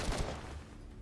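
A burst of heavy gunfire from the shooter game Girls Frontline 2: Exilium, a loud dense volley that quickly decays into a rumbling tail.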